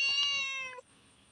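Cat meowing once, a single drawn-out, clear meow close by, followed by quiet background with no talk, beside a drying pond where fish are being netted.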